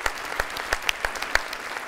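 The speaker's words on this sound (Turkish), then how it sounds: "Bence şu ana kadarki performansı ayrı bir alkış hak etti efendim" A studio audience applauding a contestant on a Turkish television quiz show, with crisp individual claps standing out from a moderate, lively patter of hands.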